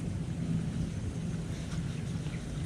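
Rain pours steadily outdoors beside an open cooking fire where trout is cooking, a dense, even hiss with low rumbling underneath that continues unbroken throughout.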